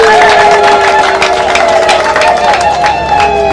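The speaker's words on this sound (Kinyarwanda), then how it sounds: "niba yishimye murumva babihaye amashyi" A crowd applauds and cheers continuously at a lively gathering, with dense clapping and raised voices sustained at a steady, loud level throughout.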